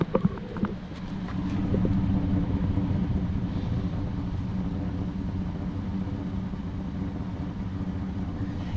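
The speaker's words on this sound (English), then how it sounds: "I feel like I still hear a little misfire" A misfiring van engine idles with a steady low rumble, heard close at the exhaust, with faint uneven puffs and stumbles in the running.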